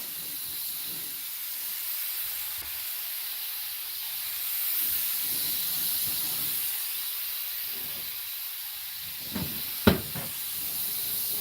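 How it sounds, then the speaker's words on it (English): Steady hissing drone of an air compressor running in a paint shop working on an 1988 Suburban, continuous and fairly loud, with a couple of brief knocks near the end. "the air compressor that's behind Dad's going to cut on. It's going to be loud"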